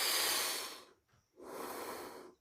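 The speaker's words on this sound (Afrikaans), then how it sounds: "soos 'n warm asemhaling." A warm breath of air drifting out of a cave in the earth, two long soft airy exhalations separated by a brief pause, quiet and close.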